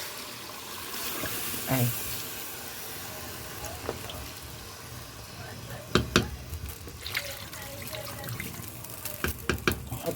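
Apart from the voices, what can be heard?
water poured into cooking pot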